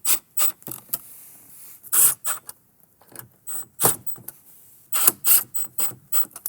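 Ratcheting clicks come from a hand tool driving factory screws to mount a speaker pod in a 1997–2006 Jeep Wrangler TJ, in short, close, rhythmic bursts separated by brief pauses.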